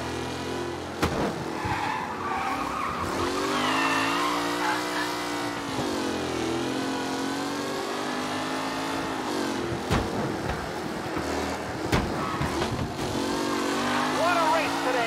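Race cars speeding and skidding in the video game Mafia Definitive Edition, with sustained engine whine, shifting pitch as cars pass, and tire squeals, loud and continuous beneath an announcer's voice.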